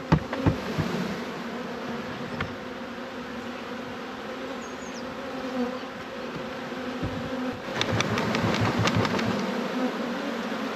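A swarm of honeybees gives off a dense, continuous buzzing drone close by, with a few sharp knocks and taps scattered through it, getting busier and louder near the end.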